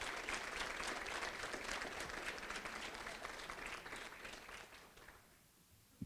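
Applause from an awards-event audience as career and technical education teachers stand to be recognised at a Rotary student awards and scholarship gathering; dense sustained clapping that gradually thins and fades near the end.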